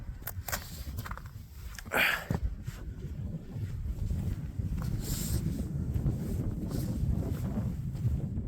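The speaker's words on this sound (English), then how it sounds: "It is very cold up here. A lot of wind." Strong, cold wind buffets the summit of New York's highest peak in the Adirondacks, a steady low roar of gusts rumbling against the microphone and swelling louder toward the end, with no voices.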